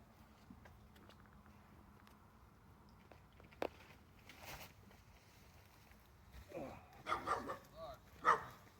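A puppy barks and yips a few times in short, fairly loud bursts near the end, beside a Coleman Power Steel Deluxe pool being fitted with a sand filter and pump, with faint rustling of movement before and quiet background talk.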